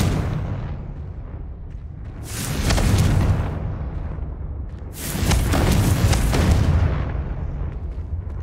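Two loud spell blasts from Confringo cast in Hogwarts Legacy, each a booming burst with a crackling tail, the second longer, over a steady low game rumble.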